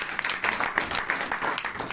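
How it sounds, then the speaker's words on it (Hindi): Clapping from a congregation at a Hindi sermon, moderately loud rhythmic claps from a smaller group continuing steadily throughout. "जोर से ताली बजाएं जी"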